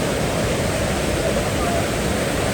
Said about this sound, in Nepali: यो नेचरको खोलाको आवाज